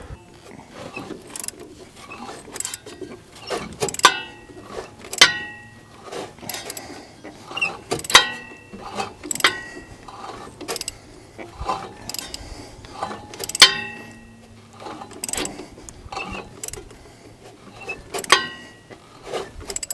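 A hand ratchet clicks in short, irregular bursts while turning over the engine of a 1950 Buick Special that has sat for 55 years, with faint metallic knocks and pauses between strokes, close by.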